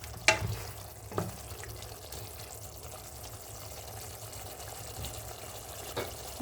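Dried fish curry cooks in a pan, a steady low bubbling and sizzle running throughout with a few sharp clinks near the start and end, moderately quiet and without talk.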